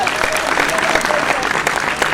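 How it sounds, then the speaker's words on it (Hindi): A crowd at a mushaira poetry gathering in Malegaon claps loudly and continuously, a thick roar of many hands with faint voices mixed into the din. "दोस्तों इतनी घनघोर ताली होना चाहिए कि यहाँ से लेकर जबलपुर तक आवाज जानी चाहिए।"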